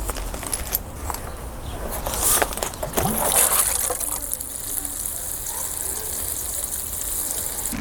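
Water poured over freshly sown, firmed-down aquilegia seeds, a steady gushing spray that swells briefly in the middle and then settles into an even, close patter, with no talking.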